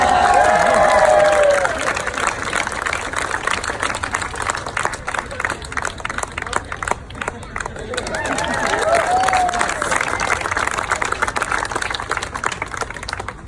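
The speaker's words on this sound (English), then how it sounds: "Give it up for Nora" An audience claps and cheers for a helper at a juggling show, a steady wash of applause that swells again near the end, mixed with crowd noise.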